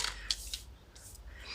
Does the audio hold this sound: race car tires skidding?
no